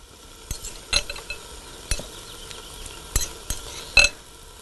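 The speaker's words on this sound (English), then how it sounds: "Alrighty, so we stir this all up." Taco filling is stirred in a pan over a faint sizzle, with a handful of distinct scraping and clinking utensil strokes spaced irregularly, close by and fairly quiet.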